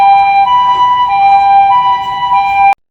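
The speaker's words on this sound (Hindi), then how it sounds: "एम्बुलेंस में डालकर इन दोनों को अस्पताल पहुंचाया गया।" Ambulance siren in a cartoon about a bike accident, a loud steady wailing tone sounding alone and continuously, then cutting off abruptly near the end.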